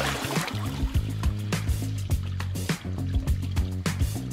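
Water pours into a glass fish tank in a steady, close trickle and splash, with the stream sputtering and gurgling in short uneven bursts over a few seconds.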